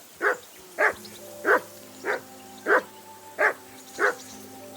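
A dog barks in the medieval role-playing game Kingdom Come: Deliverance 2, with seven evenly spaced, loud barks in a row over a steady low background tone.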